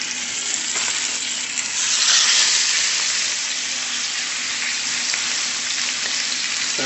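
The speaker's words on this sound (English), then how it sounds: "And sear away." Beef short ribs searing in high-temperature oil give a loud, dense, unbroken sizzle that stays close and steady throughout, with no voices.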